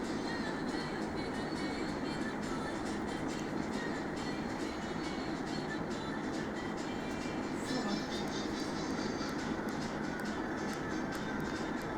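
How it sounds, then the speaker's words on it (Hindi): A MEMU commuter train passing in the mobile battle-royale game Scarfall, heard as a steady, dense rolling rumble with rhythmic clattering that holds at an even level throughout. "देखो गाइस मेमू ट्रेन आ गई"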